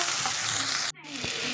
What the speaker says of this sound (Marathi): कढाईमध्ये फ्राय होत आहे.